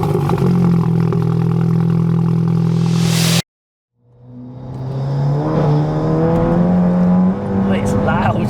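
Stage 3 tuned 480BHP MK8 Golf GTI under hard acceleration, a loud droning engine note heard from inside, cut by a brief silence, then rising again through the revs with people talking over it.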